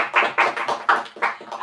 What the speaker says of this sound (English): So could we give a round of applause to our